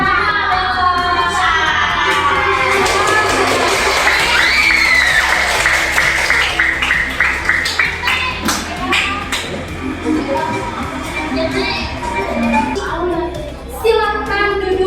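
In a classroom, students clap and cheer for quiz winners in a lively burst of tapping hands, overlapping shouts and chatter that stays loud and busy throughout.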